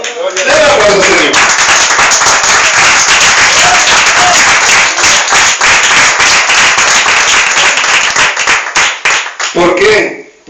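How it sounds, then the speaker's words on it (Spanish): A congregation at an evangelical church service breaks into loud, sustained applause lasting about ten seconds, dense rapid clapping up close that thins into separate claps before a voice returns at the end. "¡Denle un aplauso, Señor!"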